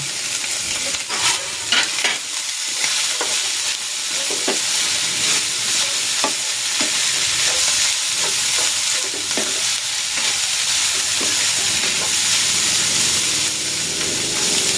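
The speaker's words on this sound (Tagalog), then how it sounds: "Ilalagay ko na itong kinunot na galunggong" Flaked galunggong (mackerel scad) frying and being stirred in a pan, a steady broadband sizzle and hiss with intermittent scraping stirs throughout, close and fairly loud with no talking.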